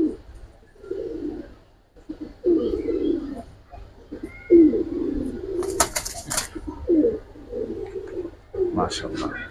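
Black fancy pigeons coo in low, repeated throaty bursts nearby, with some wing flutter and brief chirps, while someone talks over them throughout.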